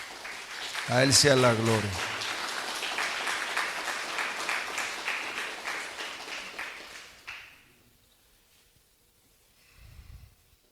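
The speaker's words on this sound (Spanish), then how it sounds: "¿Por qué no le damos un aplauso al Señor?" A church congregation bursts into applause during a sermon, beginning right after a short spoken exclamation and a loud breathy sound, then sustained clapping that fades out, followed by a faint low rumble.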